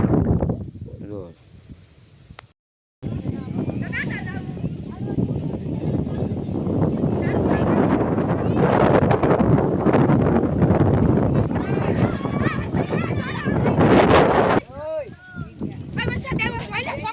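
Strong windstorm gusts sweep across open farmland, a loud sustained roar buffeting the microphone with a brief drop in the middle, while someone talks over it.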